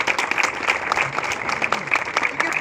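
An audience at a staff fire-fighting training session bursts into brisk applause, dense rapid clapping from a crowd that stays steady and fairly loud for a few seconds.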